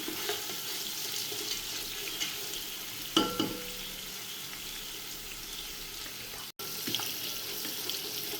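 Onions frying in a pan for chicken biryani, a steady close sizzle with occasional scraping stirs and one louder clatter partway through, no talking.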